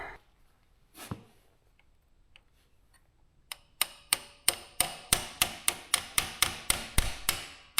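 Hammer blows knock at a suspension pin on an EZGO TXT golf cart, starting after a few quiet seconds and a couple of faint knocks, then about a dozen crisp, evenly spaced metallic strikes.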